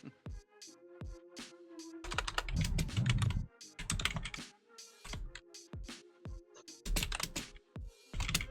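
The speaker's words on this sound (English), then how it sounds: "It sounds like he is typing anyway, so he might be sending a message to somebody." Typing on a computer keyboard comes as bursts of quick, crisp key clicks separated by short pauses, close and fairly quiet over a faint steady hum.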